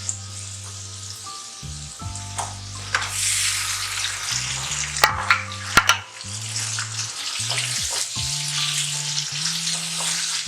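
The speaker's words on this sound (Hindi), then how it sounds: "अब हम इसके अंदर चिकन शामिल कर देंगे।" Chicken pieces frying in spices for chicken kurma, giving a steady close sizzle with occasional stirring clatters over a soft tonal background.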